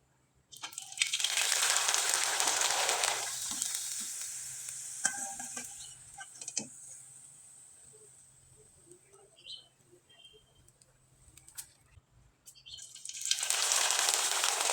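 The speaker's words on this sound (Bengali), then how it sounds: "একইভাবে কয়েকটা পিঠা আমি আপনাদের ভেজে দেখিয়ে দিচ্ছি।" Pitha cakes made from leftover rice fry in hot oil, a loud close sizzle that swells when they go in, settles to quieter crackling with small clinks, then surges again near the end.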